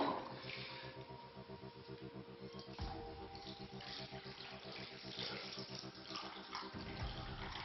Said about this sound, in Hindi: यहां करीब हमने 2 लोटा जल चढ़ा दिया है पानी।